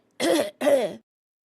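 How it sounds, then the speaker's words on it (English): One person clears their throat twice in quick succession during a coughing fit, two short rasping bursts close to the microphone, followed by silence. "I'm having a coughing fit."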